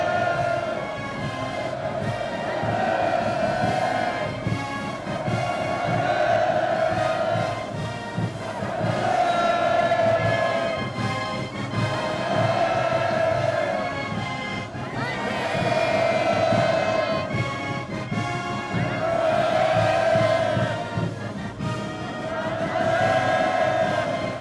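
A large welcoming crowd roars hurrahs in repeated swelling waves of rhythmic chanting, loud and massed across the whole stretch, like a stadium-sized gathering cheering in unison.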